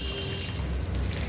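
Tap water runs steadily into a bathroom basin during face washing, a soft continuous splashing trickle heard close up and alone for a brief moment.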